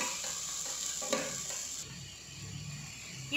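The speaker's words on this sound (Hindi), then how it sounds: "अब हम इसमें प्याज डाल देंगे और प्याज को हम पिंक होने तक भूनेंगे" Onions and garlic fry in a pan with a soft, continuous sizzle and light stirring scrapes, fairly quiet and close, no talking.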